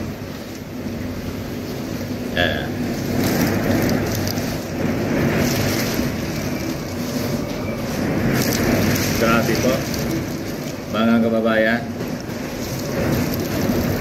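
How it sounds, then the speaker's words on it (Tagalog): Heavy typhoon rain from Typhoon Uwan in Legazpi, Bicol, roars as a steady dense wash with gusty swells and low rumbling, heard from indoors behind closed windows, while someone speaks briefly over it. "Lumakas na rin po yung yung bagsak ng ulan"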